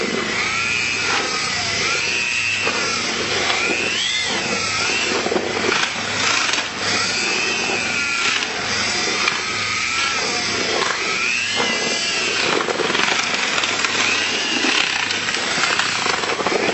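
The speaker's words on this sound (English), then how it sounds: "Mix the resin in thoroughly with a mud mixing drill." A steady, loud mud mixing drill whirs continuously, its pitch wavering slightly as it churns through a thick, gritty mixture of resin and pebbles.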